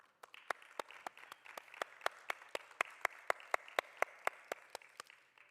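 A small theater audience at a panel talk claps at a slow, steady pace, each sharp clap separate and distinct over a quiet room, keeping an even rhythm for several seconds.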